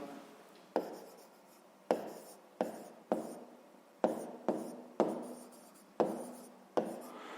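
Pen strokes on paper during a fifth-grade math exercise, a series of about eleven short scratching strokes in an irregular rhythm, close and quiet, with faint talk nearby.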